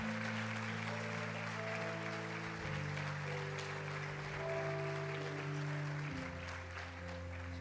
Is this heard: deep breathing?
no